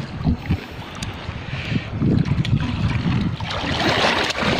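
Strong wind buffets a small fishing boat on choppy sea off Aklan, with continuous rushing wind noise and splashing waves, loud and close, rising in gusts with no talk.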